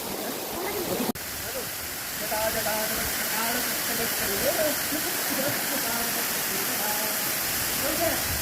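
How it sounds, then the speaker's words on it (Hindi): Steady broadband rush of falling water fills the scene, with a sharp click early on and people chattering faintly underneath. "बहुत बढ़िया वाटरफॉल"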